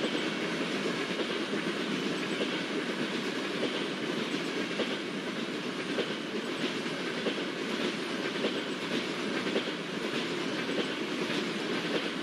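An Indian Railways Antyodaya Express rolls past at a double crossing, a steady loud rumble with rhythmic clickety-clack of wheels over rail joints, sustained and close throughout.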